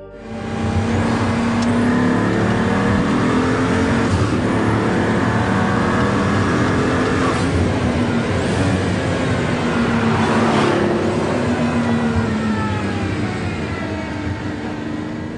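A powerful Pagani Huayra engine roars loudly and continuously, rising and falling in pitch as it revs under hard acceleration.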